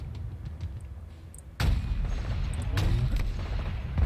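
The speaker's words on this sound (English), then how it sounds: "Dude, this sniper causes straight havoc." A sniper rifle in a video game fires one sudden, loud shot that rolls into a heavy, rumbling echo after a quieter stretch.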